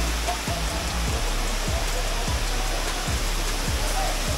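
Chakratirtha waterfall in Keonjhar, Odisha, gives a steady, loud roar of falling water throughout, with a low rhythmic thumping running underneath.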